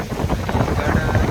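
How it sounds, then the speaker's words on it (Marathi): Strong wind gusts buffet the microphone during rain at a village hotel stop on a trek to Kothaligad fort, a loud, rumbling, blustery roar that stays close and constant. "खूप वारा सुटला आणि पाऊस पण आहे."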